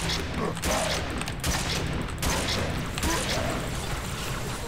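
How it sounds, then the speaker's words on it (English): A Brute shotgun, the Mauler, fires in Halo 3 amid a noisy firefight, with several sharp blasts spaced apart over dense background gunfire and combat noise. "Yes, this is a brute shotgun. It's a mauler."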